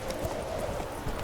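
Horse hooves galloping in The Witcher 3, a quick rhythmic clip-clop of game hoofbeats close by, heard alone in a short burst.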